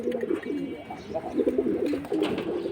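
High-flying Giribaz pigeons coo repeatedly in soft, throaty rolling phrases, close by, with faint background rustle.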